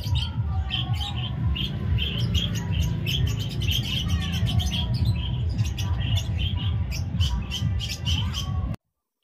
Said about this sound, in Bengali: কি সুন্দর মুনিয়া পাখিগুলো, দারুণ লাগে কিচিরমিচির